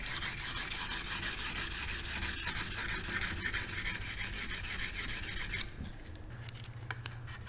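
A planer knife from a Rockwell/Delta 22-650 13-inch thickness planer is ground on a sharpening jig, giving a steady, close rasping scrape with rhythmic strokes that thin out and stop near the end.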